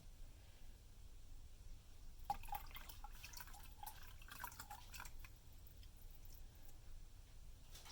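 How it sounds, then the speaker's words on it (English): Lye solution for oat milk and calendula soap drips and trickles through a strainer in a quiet room, with faint, irregular close drops and small splashes that grow busier partway through, with no voices. "Alright, so I'm going to strain my lye solution."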